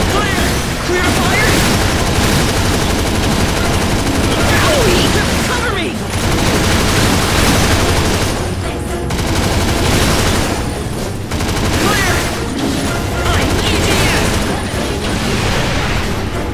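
Rapid bursts of gunfire and booming blasts in the Earth Defence Force World Brothers 2 video game, a loud dense barrage running almost without pause, with a few short gaps and voices calling out over the shooting.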